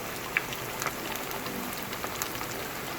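Rice and potato cutlets fry in a pan over medium heat, giving a steady soft sizzle with faint crackles and small pops, close and continuous with no talking.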